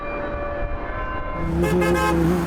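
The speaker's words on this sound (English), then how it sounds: "All the honking you hear, it's a beautiful thing." Car horns honk in busy downtown Rochester traffic, with a loud, sustained toot rising near the end over the rumble of passing vehicles.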